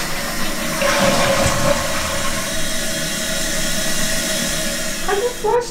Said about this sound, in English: I just flushed.